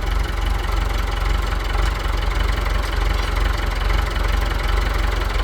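Massey Ferguson tractor engine running steadily after a starter motor installation, a loud continuous low rumble with a fast even knocking beat, close by and alone with no voices.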